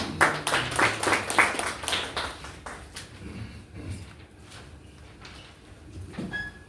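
A short burst of clapping from a workshop audience, loudest at the start and fading out within a few seconds, followed by quieter room noise.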